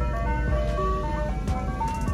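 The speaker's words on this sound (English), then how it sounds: "even on Sundays, we get ice cream trucks" An ice cream truck passes near a workshop on a Sunday, its chiming tune a steady run of clear melodic tones over a constant low engine rumble, with no one speaking.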